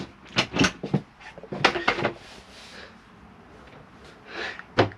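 A kitchen drawer in a Swift Searcher 614 caravan slides open and shut, several quick close knocks and rattles near the mic, with quieter movement in between.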